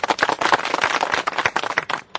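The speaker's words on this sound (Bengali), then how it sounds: "ভাই সকল একটা হাততালি দেন" A crowd of people clapping together, a dense, steady burst of applause lasting a couple of seconds before tapering slightly at the end.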